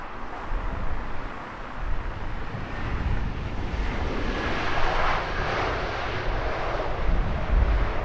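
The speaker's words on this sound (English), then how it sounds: "Second heavy in that stack, Virgin Atlantic Flight 301 in from Delhi. That's a Dash 9 Dreamliner." A Virgin Atlantic Boeing 787-9 Dreamliner arriving at Heathrow Airport gives a loud, steady engine roar with broadband rushing and some wind buffeting, continuous throughout.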